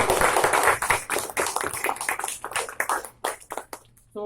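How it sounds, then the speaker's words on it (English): Applause from the audience at a Toastmasters club meeting, a dense patter of many hands clapping together, steady then thinning toward the end, with no talk over it. "So let's have a huge round of applause for all of you."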